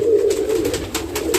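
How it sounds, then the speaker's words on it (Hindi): Paper pigeons near their chicks in a nest give a steady low cooing that runs through the whole short stretch, close and fairly loud, with faint rustling above. "कागजी कबूतर का बच्चा है यहाँ पर।"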